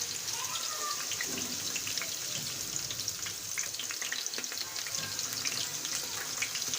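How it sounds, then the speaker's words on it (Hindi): Potato butterfly snacks fry in hot oil over low heat, giving a steady, faint hiss and crackle with scattered small pops throughout. "अब इसको फ्राई करने के लिए रख देंगे।"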